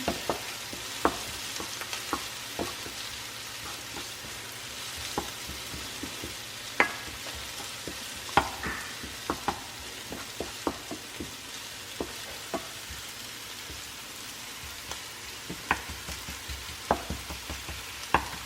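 Onion and red pepper sizzling in a pan over medium heat, a quiet steady hiss broken by many sharp little pops and ticks scattered throughout, close up with no talking.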